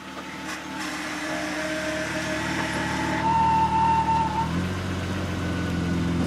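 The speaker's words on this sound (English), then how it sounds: "Sounds like a vacuum line." Car engine running with a steady hiss from a vacuum line leak, a continuous idling drone and a thin whistling tone rising briefly midway, fairly close and loud with no talk.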